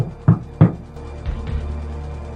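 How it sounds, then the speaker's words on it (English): Two sharp, close knocks on a door, a brief pause, then a softer thud with a low lingering resonance. "there's a knock at the door."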